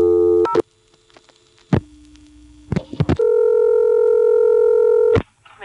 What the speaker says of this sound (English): you'll notice the call starts to complete as soon as I dial 0